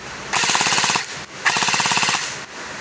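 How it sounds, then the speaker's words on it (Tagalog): Airsoft SLR V4 long-barrel rifle firing full auto, two close bursts of rapid mechanical clatter, each about two-thirds of a second long with a short gap between, and no voices. "Alright, test fire sa SLR V4 long barrel natin. So full auto na po tayo agad para ma-test fire po natin."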